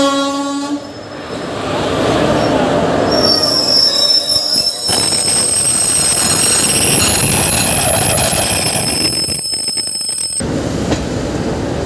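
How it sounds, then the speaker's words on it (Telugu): An express train pulls into Lonavala station after descending the Khandala ghat, with loud metallic wheel squeal, steady rolling rumble and sustained high screeching tones that cut off abruptly near the end. "మన ట్రైన్ లోనవాలా స్టేషన్కు రీచ్ అయింది."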